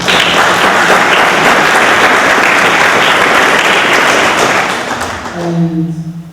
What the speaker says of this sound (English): So if we could just clap for them